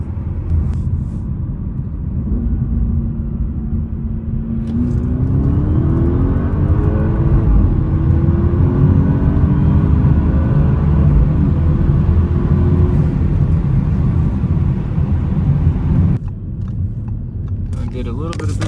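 A modified Audi S7 with a Stage 1 ECU/TCU tune cruises at 50-55 mph, giving a steady low engine and road drone with tones that rise and fall midway, while someone talks over it throughout.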